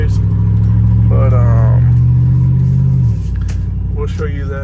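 A 1999 Chevrolet Silverado 5.3 4x4 pickup drives along with a loud, steady engine drone that drops in pitch near the end, as someone talks over it.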